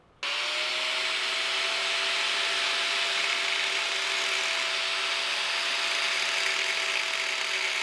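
An angle grinder scribes a line on the steel axle tube of a Ford 8.8 rear end, switching on abruptly into a loud, steady high-pitched whine and grinding hiss that holds constant throughout, with no talking.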